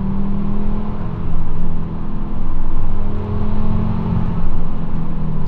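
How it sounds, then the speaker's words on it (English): A 6-speed Volvo V70R wagon with a turbocharged five-cylinder engine and a resonator delete accelerates. It gives a deep, steady droning hum that swells in several surges. "when the turbo spools up and you get that torque rush"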